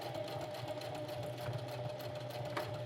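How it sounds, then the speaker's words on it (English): A sewing machine stitches nylon webbing right beside a buckle for a tactical chest rig, humming in a steady fast mechanical whir with an even rapid needle rhythm, close and continuous, with no talking. "Here I'm sewing as close to the buckle as I can just to prevent it from shifting."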